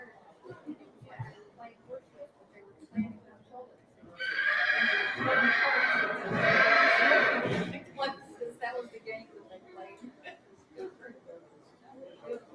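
A Haflinger horse neighs loudly at a registry sale in Ashland, Ohio, a long whinny of several seconds rising over low crowd chatter and background talk.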